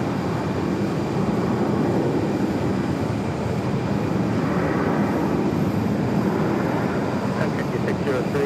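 Aircraft at Phoenix Sky Harbor airport, heard as a steady, loud roar of jet engines with no breaks, which reads as a plane taxiing or passing close by.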